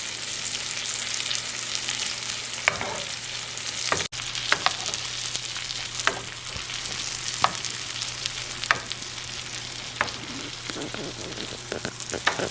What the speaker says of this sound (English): in the pool of butter and baste the salmon